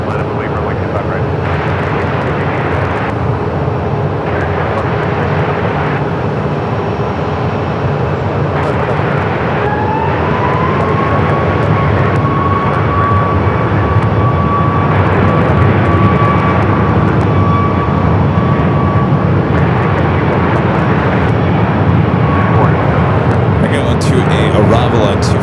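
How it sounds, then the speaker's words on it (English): A corporate jet lands on runway 25 left at Phoenix Sky Harbor Airport, a steady distant engine roar with a thin whine joining midway, while a voice talks over it. "Arrival on 25 at left, another corporate jet."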